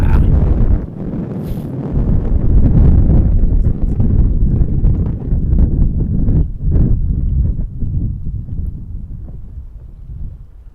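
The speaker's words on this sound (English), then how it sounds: "that's the wind we are dealing with." Strong gusts buffet an outdoor microphone at a busy international airport, a loud continuous low rumble with choppy surges that stays heavy throughout.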